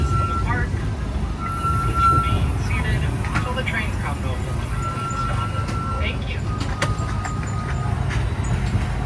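Disneyland Railroad train running through the park, a continuous low rumble of the moving train with occasional higher squeals, while people talk over it nearby.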